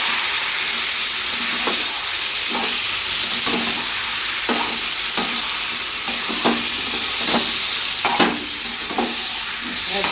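Chicken coated in spices sizzles steadily in a hot pan, a continuous frying hiss broken by periodic scrapes and stirs of a spoon, close and fairly loud with no voices.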